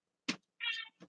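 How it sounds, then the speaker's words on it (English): A house cat waiting to be let out the door meows up close: a brief chirp, then a longer drawn-out meow and a short final mew, all in near silence. "I have a kitty that wants out the door."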